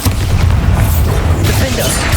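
A Bombarda spell explosion in the Hogwarts Legacy video game booms loud and dense, a heavy rumbling blast filling the whole clip.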